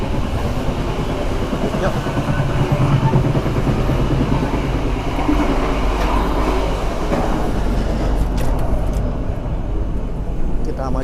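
Steady rumble and rhythmic clatter of the KA Mutiara Timur passenger train moving near Surabaya, heard from inside a carriage, continuous and fairly loud, with a brief spoken word over the running noise.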